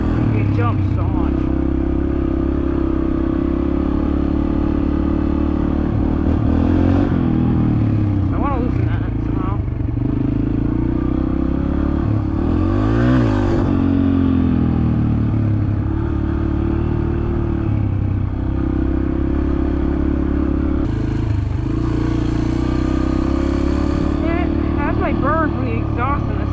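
A dirt bike engine revs and idles on trails, a buzzing single-cylinder drone with repeated throttle blips and pitch swings, close and loud throughout, with some mechanical clatter.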